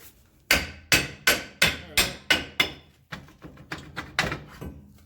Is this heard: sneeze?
no